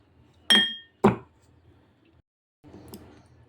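Orange segments being muddled in a glass for an orange mojito, two sharp glass clinks close together followed by a softer grinding crush.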